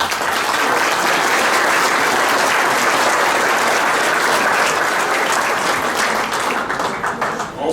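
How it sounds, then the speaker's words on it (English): Dense, loud applause from a banquet audience at a softball hall of fame dinner in a hotel ballroom, a steady wash of many hands clapping that holds for the whole stretch with no talk over it. "So we can come with a round of applause with all their help."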